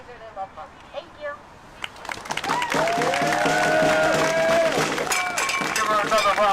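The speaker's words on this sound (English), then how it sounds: "Give her another round of applause" Crowd applause and cheering at an outdoor justice rally in Minnesota, swelling after a quieter start into steady, dense clapping mixed with voices and shouts that continues to the end.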